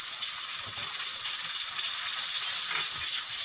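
Ginger dropped into hot ghee while dal pulao cooks, giving a steady, even hiss and sizzle that holds unbroken and fairly loud, with a few faint low knocks beneath it.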